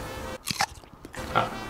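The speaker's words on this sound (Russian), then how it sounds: "Это мой кот ест, извините." Close, crisp crunching bites in a few quick bursts, a cat chewing dry food, with quiet pauses between.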